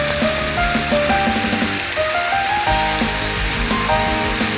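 Waterfall on the Arima 48 Waterfalls hiking trail in Japan, a steady loud rush of falling water filling the whole clip, with melodic tones layered over it.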